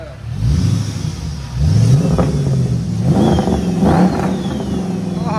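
A 6.4L HEMI swapped into an AWD Chrysler 300 with straight pipes revs hard and loud nearby, its deep exhaust rising and falling through several throttle blips with no talk over it.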